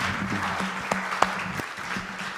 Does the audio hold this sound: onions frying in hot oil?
no